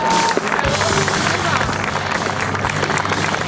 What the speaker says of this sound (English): All right, let's hear it for Kyle